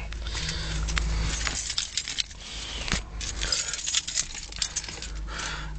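Car keys jangling inside a car during a dashboard rebuild, a bright metallic rattle and clinking with a few louder shakes, heard close over a low background rumble.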